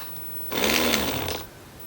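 An RC car motor driven by a Hobbywing QuicRun ESC at slow throttle gives a brief, buzzing whir lasting about a second, rising from near silence and then dropping away.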